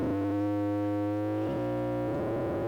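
A Snazzy FX synth module hums as a steady, buzzy tone that shifts abruptly into denser, rougher noise, loud and continuous, with no voices.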